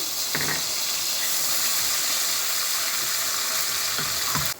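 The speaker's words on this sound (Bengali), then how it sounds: "পেঁয়াজ ভাজা হয়ে গেছে মশলা দিয়ে দিচ্ছি" Onions and spices fry in a pan with a steady, dense sizzling hiss, close and continuous, with a few faint clinks of utensils and no talk.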